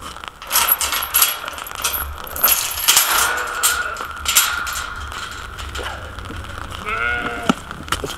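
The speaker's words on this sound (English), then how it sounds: "Let's go to the sheep first. They're making noise." Several sheep bleat repeatedly at close range, wavering cries rising over a steady rustling outdoor background with occasional clinks.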